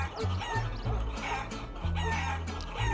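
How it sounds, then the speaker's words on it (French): A chicken in the video game Guacamelee clucks in repeated short, loud calls, close and clear, with no one talking. "Le poulet du démon."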